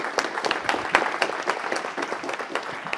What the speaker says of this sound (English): let's everyone give them a round of applause for bringing her out tonight.